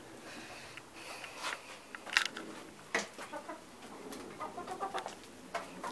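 Laying hens cluck in a backyard coop in the late morning, a scatter of short close clucks and calls rising in bursts over a quiet background.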